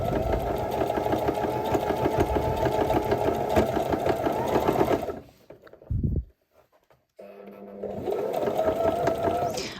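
A classic domestic sewing machine runs an overlock stitch on elastic fabric with a loud, steady mechanical whir and rapid needle chatter. It stops abruptly for a couple of seconds, then starts up again.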